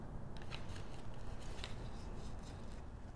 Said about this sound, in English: using something with a straight edge like a ink pad, I'm just going to tear my ends